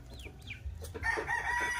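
Turkey calling just before being bathed at a backyard farm: a couple of short rising bird calls near the start, followed by a rougher, louder bird call, close and fairly faint.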